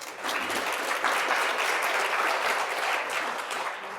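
Audience applause at a U.S.–China policy conference welcoming the moderator and expert speakers: steady, dense clapping from a moderately sized crowd that swells after a brief start and holds evenly throughout.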